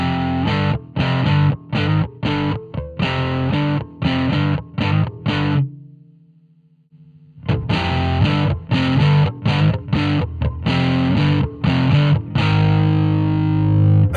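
Bass guitar with a driven, high-gain tone through a Two notes Genome amp simulator, playing loud chugging riffs in repeated bursts, a brief sustained note fading out midway, then more gritty riffing.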